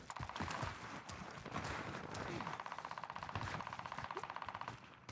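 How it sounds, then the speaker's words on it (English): Rapid automatic gunfire in Call of Duty Warzone, steady bursts of repeated shots in quick rhythm, moderately loud and somewhat distant, with brief pauses between volleys. "Wow, there's a lot of shooting going on over there."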